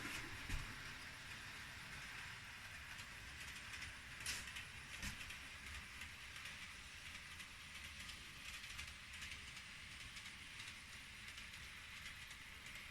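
A model train hauling eight coaches climbs an incline on a layout toward a terminus station, giving a steady, quiet mechanical rumble and faint rail clatter throughout, with no one speaking.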